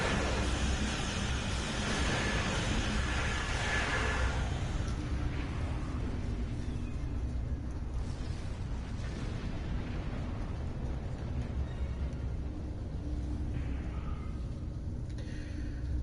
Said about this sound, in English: Initiate high yield torpedo. On my mark.